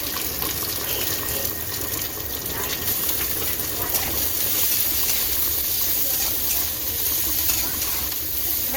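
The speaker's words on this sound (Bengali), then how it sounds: "এখানে আমার মাছের ঝোল ফুটছে" Fish curry bubbling steadily in a pot on a home kitchen stove, a continuous close simmering and sizzling hiss with no pauses.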